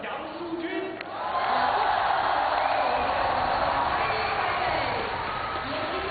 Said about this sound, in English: The crowd in Beijing welcomes Yang from Chinese Taipei.